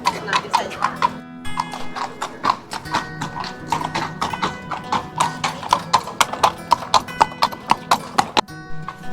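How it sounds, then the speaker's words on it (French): Horses walking through a large park, their hooves clip-clopping on hard ground in a steady, close rhythm of sharp knocks with a brief gap early on and faint voices in the background. "Là, c'est pas les mêmes chevaux"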